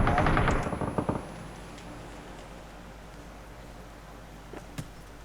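Gunfire in PUBG on the Erangel map during a duo match: a loud, close, rapid burst of automatic shots fills the first second, then quiet ambience follows with a couple of faint, distant pops near the end; no talking.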